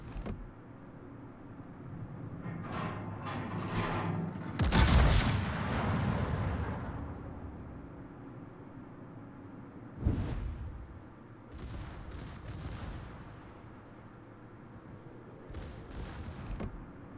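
Battleship guns firing in the game World of Warships, from a Tier 10 Pan American battleship: a big booming salvo with a long rumbling tail, later a sharp second shot and scattered distant reports over steady engine rumble.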